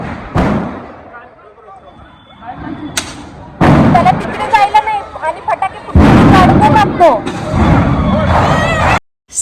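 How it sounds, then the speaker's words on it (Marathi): Diwali firecrackers going off in loud, irregular bursts with crackling and sharp bangs, loud and close, while people talk in the background. "मला जे जे फटाके आवडते ना तेच फटाके मी फोडले"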